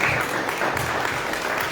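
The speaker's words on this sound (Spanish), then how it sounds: "Dele palmas a su Señor." A church congregation claps together in steady, dense applause that fills the whole moment at moderate volume, with no distinct voices standing out.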